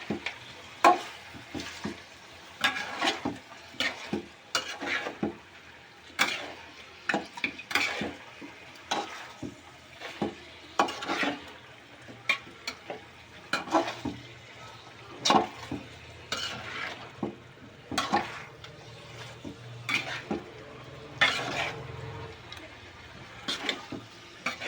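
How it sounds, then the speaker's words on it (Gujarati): A spoon stirs Gujarati-style chicken and potato curry with turmeric in a pan, scraping and knocking repeatedly in an uneven rhythm over a low, continuous sizzle, close and fairly loud. "એને આપણે હલાવી નાખશું."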